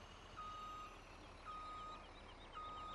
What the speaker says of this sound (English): Back her truck up.